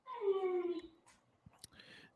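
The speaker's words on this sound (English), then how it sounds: "I'll tend to the dog real quick" A dog gives a short, whining howl up close, followed by faint clicks and a brief soft whimper, in a home recording setting.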